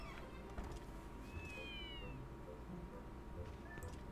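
Cats in Zelda: Twilight Princess meow repeatedly in drawn-out, rising and falling calls over a steady bed of game background sound, close and clear.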